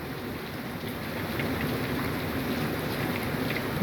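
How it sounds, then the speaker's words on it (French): Heavy rain pouring down in a dense, continuous roar that grows slightly louder and stays steady, with no voices. "L'orage s'évacue, mais forte intensité pluviométrique."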